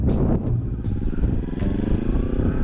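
A manual-transmission motorcycle pulls away with its engine revving loudly and close by, a steady throaty rumble that runs through the whole short stretch.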